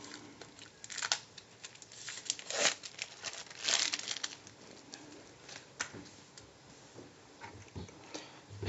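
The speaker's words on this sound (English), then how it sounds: "I'm just going to take this plastic peel off." Thin plastic wrap being peeled off a cucumber in a kitchen, giving soft, irregular crinkling and crackling rustles in several quiet bursts, close by, with no talking.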